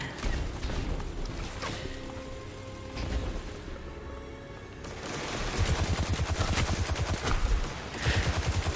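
Sci-fi shooter video game gunfire, quiet and mixed with game effects: scattered shots early, then a steady rapid stream of automatic fire with regular pulses toward the end.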